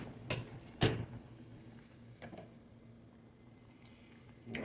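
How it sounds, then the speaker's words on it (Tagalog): Chicken broth with potatoes simmering in a pot for a Filipino chicken stew, giving a low steady bubbling hiss with a few soft louder pops, close and quiet, with no talking. "Kumukulo na guys,"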